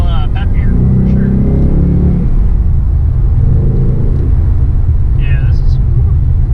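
A 2018 Ford Mustang GT in Sport mode accelerates with a loud, steady engine rumble that rises in waves as it revs, with faint speech in the background.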